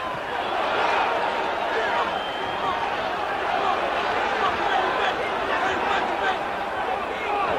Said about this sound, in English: Crowd yells, but that was a slip.